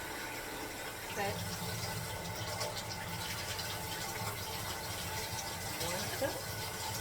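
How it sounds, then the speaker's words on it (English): Water pours in a steady, continuous stream into the inner pot of a rice cooker that holds two cups of rice. The sound is close and even throughout. "we're gonna pour 2 cups of water in there"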